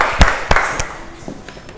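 Classroom applause for the class, a few sharp scattered claps close by that thin out into faint patters and fade away.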